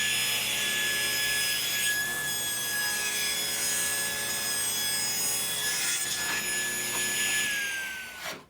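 A tilted saw blade rips trim from a wood blank for column trim, a steady high whining cut with a grinding edge that runs nearly unbroken for about eight seconds before tapering off at the end.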